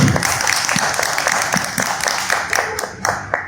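Audience applause at a poetry gathering (tertulia), dense steady clapping from a crowd, moderately loud and sustained throughout without speech.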